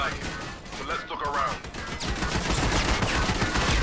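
Enemy gunfire pours in during a firefight in Army of Two on PS3, set in Iraq, with a dense, continuous rattle of rapid shots and crackling impacts, loud and close, building toward the end.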